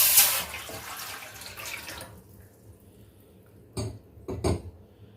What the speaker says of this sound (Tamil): இந்த டம்ளரால் அளந்து வச்சிருக்கிற 3 கிளாஸ் தண்ணி. சரிங்களா, இதை நம்ம இதில் விட்டுறலாம்.